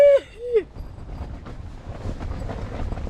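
Strong wind gusting at night on the island of Krk, Croatia, around a wild campsite with a rooftop tent: a steady, rough, full-bodied rush follows a brief opening tone and keeps going without a break.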